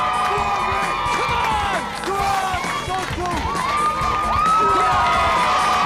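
A crowd at a no-fuel drag race cheers and shouts excitedly, with high whoops and children's voices rising over steady roar, building louder toward the end.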